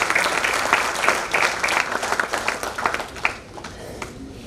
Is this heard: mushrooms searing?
no